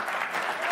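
Studio audience applause for Joy Behar on a television news show, a dense steady wash of clapping held at an even level through a brief burst.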